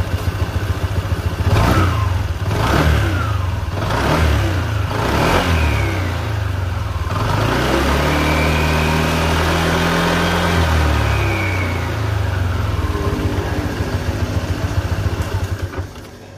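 A 2024 Honda Stylo 160 CBS scooter engine idling, then blipped through a few quick revs before one longer rising and falling rev, loud and close with no talking.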